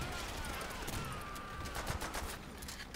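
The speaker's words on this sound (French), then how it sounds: "Fusil à pompe." Shotgun blasts and gunfire in the World War II shooter Call of Duty: World at War, sharp bursts spread across a busy battle soundscape with faint background voices.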